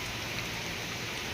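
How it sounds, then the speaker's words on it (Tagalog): Rain and wind sweep past in a steady hiss around coconut palms, a constant close wash of falling drops with no voices over it. "makinig yung sound sa hangin mga kaibigan at sa ulan"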